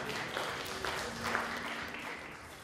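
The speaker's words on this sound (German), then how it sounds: "Da war der Applaus jetzt fehl am Platz." Audience applause at a school-themed carnival comedy sketch at a Fasching event, a sustained moderate wash of clapping from a crowd, fairly steady throughout with a faint voice underneath.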